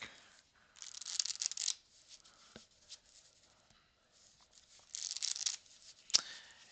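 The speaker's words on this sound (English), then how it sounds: "And then what we will do is we will shuffle the deck." A deck of playing cards shuffled during a sleight-of-hand magic routine: two short, crisp riffle bursts separated by quiet handling noises, close and soft.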